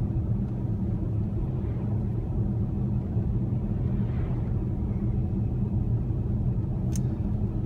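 A Tesla driving itself on Autopilot along a secondary road, a steady low rumble of tires and road noise heard from inside the cabin, unbroken and even throughout.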